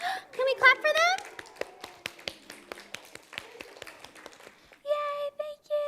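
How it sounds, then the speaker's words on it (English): Scattered clapping from a small audience after a library children's puppet show, light uneven claps under a voice and a voice, ending in a brief melodic sound. "Can we clap for them?"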